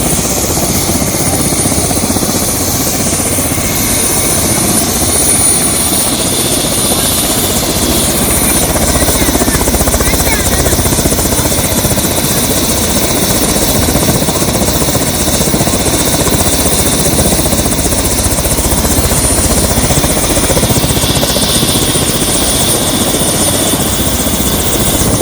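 A helicopter making an emergency landing at a school gives a steady loud rotor and engine roar that stays constant throughout, with a faint whine on top and no voices.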